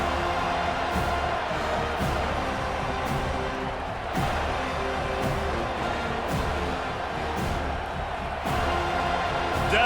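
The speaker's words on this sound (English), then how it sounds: "Decibels rising as the crowd gets behind this defense on 3rd down" Stadium crowd in the College Football 25 video game during a Northwestern vs. Florida State matchup, a dense continuous roar of cheering with sharp hits at intervals and a swell near the end.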